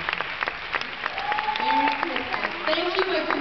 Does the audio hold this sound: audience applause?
yes